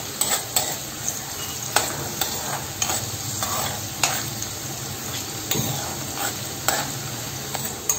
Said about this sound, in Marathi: आपण आता तेजपत्ता आणि कांदा टाकून घेऊया। आणि तो व्यवस्थित असा लालसर होईपर्यंत आपण परतून घेऊया।